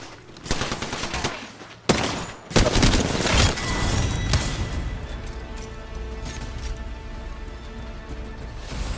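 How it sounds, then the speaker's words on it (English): Gunfire in Apex Legends, with dense, loud automatic fire running almost continuously, broken by a couple of sharp heavy bangs and crashes near the start, then steady rattling bursts. "Getting shot at. Firing."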